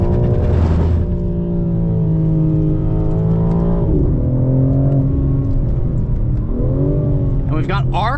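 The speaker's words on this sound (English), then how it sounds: "Flick down a couple gear shifts, and off we go." A 735-horsepower G82 BMW M4 Competition xDrive accelerating hard from inside the cabin, engine note climbing through several gear shifts with brief dips between, loud and continuous, a voice speaking over it.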